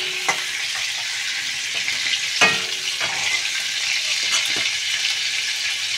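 Sea prawns frying in hot oil make a steady, dense sizzle that carries on without a break, broken now and then by brief pops, with no voices.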